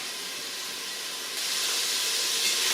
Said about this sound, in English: I hear it over there sizzling, Glenda.